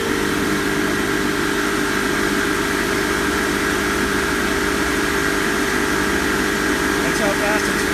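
A Fieldpiece MR45 refrigerant recovery machine runs in push-pull mode, a dense steady mechanical whir and hum close up without pause, and a voice can be heard talking under it.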